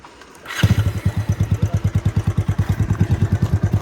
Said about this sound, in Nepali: मेरो बाइक पड्केको छ एउटा रेड माई पड्किङ बाइक है